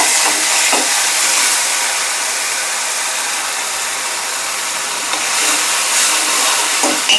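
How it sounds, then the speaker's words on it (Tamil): Tomatoes sizzle in a pan during a liver and mutton fry, a loud, steady, close frying hiss that continues for several seconds with no talking. "அதில் தக்காளி சேர்த்து அதையும் வதக்கி விட்டுருங்க"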